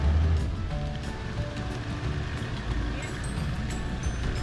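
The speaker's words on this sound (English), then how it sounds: "it's raining now" Steady rain hisses and patters on surfaces nearby at a campground on Fraser Island, a continuous wash of sound with no voices.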